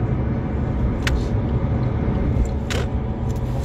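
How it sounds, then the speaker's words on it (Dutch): Car driving on the road toward Schiphol: a steady low interior rumble of engine and tyres, fairly loud and continuous, with two brief higher clicks and no talk. "We zijn ondertussen in de auto onderweg"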